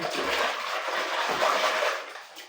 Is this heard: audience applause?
no